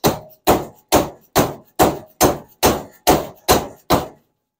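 Ten evenly spaced, loud metallic hammer blows strike a vintage SK ratchet part, each sharp hit ringing briefly before the next in a steady rhythm, with no talk over them.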